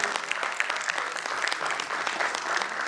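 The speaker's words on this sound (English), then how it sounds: "Please give a round of applause and welcome him." Audience at an architecture institute's convocation day applauds in a steady, dense round of clapping, close and sustained throughout.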